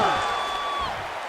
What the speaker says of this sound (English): a standing ovation from this capacity crowd after that round